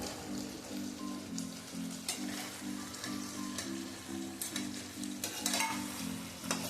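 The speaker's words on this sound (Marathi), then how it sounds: "त्याच्यात आपण पनीर घालू." Paneer frying in a pan with cooking potatoes gives a steady crackling sizzle like light rain, while a low droning hum pulses in repeated bursts beneath it. A few sharp clicks of stirring come through close up, and there is no talk.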